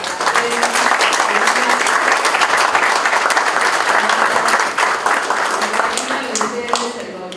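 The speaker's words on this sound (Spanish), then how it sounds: "un aplauso para ustedes" A large audience applauds steadily for several seconds, a thick continuous wash of clapping that softens slightly at the end.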